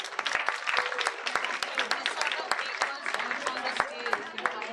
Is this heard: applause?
yes